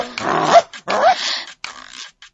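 A dog in an animated Tamil Tenali Raman story gives loud, rough growling barks in two long, harsh bursts close by, followed by a quieter, broken tail of sound.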